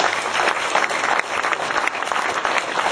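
Guests at the Marketeers pontoon dinner in 2008 give a hearty round of applause for the committee, dense, even clapping filling the room with no talk over it.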